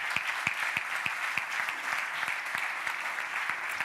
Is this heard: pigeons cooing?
no